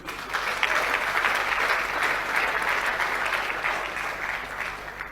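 Sustained audience applause at Owerri Business Week, a dense wash of many hands clapping at a steady, fairly loud level throughout, with no voices standing out.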